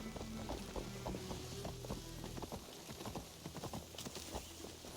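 Horse hooves clopping in an Assassin's Creed video game, a steady run of sharp hoof strikes over low sustained tones and ambient game sound.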